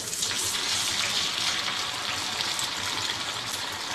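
Semolina sweet dough balls fry in hot ghee, a constant bright bubbling sizzle, steady and fairly close without speech.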